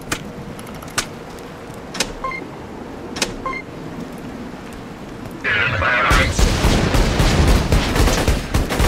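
Gunfire in the game Borderlands 2. A few sharp single shots ring out at steady intervals, then a dense burst of automatic fire arrives near the end, loud and close.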